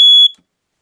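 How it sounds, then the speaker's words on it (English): Single loud, piercing, high-pitched beep from a ceiling-mounted smoke detector, about a quarter second long and cutting off sharply into silence. "Smoke detectors."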